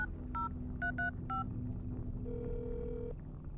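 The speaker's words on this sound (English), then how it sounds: "The man grabbed his phone and started calling the police." Several quick touch-tone beeps of a phone number being dialed, in short bursts, followed by a longer steady tone, over a low background hum.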